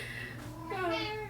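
A cat gives a single drawn-out meow that rises in pitch, loud and close over a low steady hum.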